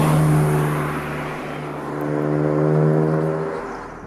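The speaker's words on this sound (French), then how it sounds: "La ligne Fujitsubo Legalis Air qui fait un son, moi je le trouve magnifique" A Toyota AE86 Trueno idles and blips through its Fujitsubo Legalis exhaust, a steady loud droning engine note that rises and falls slightly in pitch, close by with no talking.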